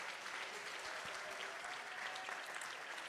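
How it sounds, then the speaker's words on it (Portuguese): A church congregation claps strongly in praise during an evening worship service, a dense, steady wash of many hands continuing evenly throughout, fairly distant and moderately loud with no voices. "Louva Jesus com uma salva de palmas bem forte."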